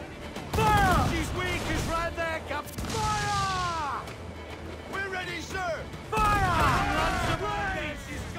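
Cannon and gun fire in a naval battle from the video game Assassin's Creed IV Black Flag, repeated booming blasts in clusters with mechanical clatter and whistling tones, loud and mixed with game voices.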